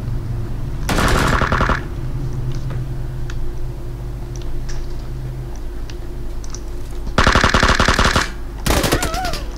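PUBG Lite gunfire on the Bodie map, with a loud rapid automatic burst early on and two more rattling bursts near the end, separated by quieter stretches with faint ticks.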